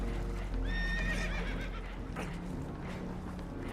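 Spooked horses in Red Dead Redemption 2 let out a shrill, wavering whinny over a steady rumbling background of rushing water and movement, with faint clip-clop and thuds continuing afterward.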